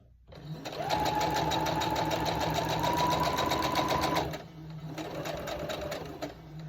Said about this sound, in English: So I'm just sewing a row together that's going to be attached to what I've already got going on over there.